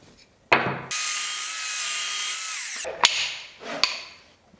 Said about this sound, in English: gotta cut this piece out on the miter saw. I'm rough cutting the second piece.